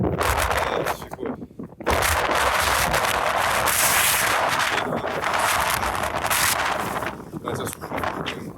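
Strong wind roars across an exposed mountain crossing on the island of Sørøya, a steady loud buffeting rush with a brief lull early on, continuing without pause to the end.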